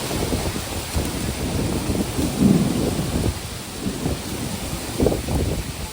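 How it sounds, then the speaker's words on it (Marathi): Heavy rain pours steadily with strong wind and low rumbling gusts and broadband noise throughout, no voices, a dense continuous downpour close to the microphone. "पाऊस पण खूप जोराने आलेला आहे"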